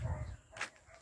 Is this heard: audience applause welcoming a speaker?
no